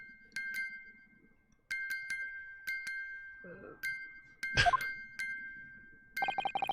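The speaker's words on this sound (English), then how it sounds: "It's the defense belief that the sound emanating from this music box is not supposed to be music." A Great Ace Attorney music box chimes in sparse, clear metallic dings with long gaps between them, quiet and close, and a faster run of tones comes at the end. One short voice sound cuts in briefly.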